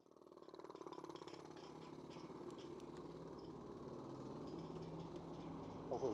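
A jackhammer pounds away at roadwork, heard from a distance as a fast, steady rattling hammer under passing engine hum, faint throughout and without any talk.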